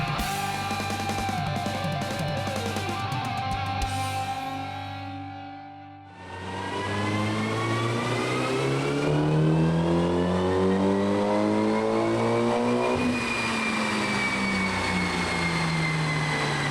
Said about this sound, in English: there is nothing like the sound of putting a car through its paces and hearing it at full RPM on the dyno